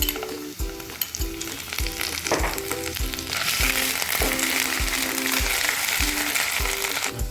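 Garlic and ginger paste sizzle in hot oil in a pan for a chicken kofta curry, a loud, constant crackling hiss with a brisk, rhythmic scrape of stirring roughly every half second, heard close with no voices.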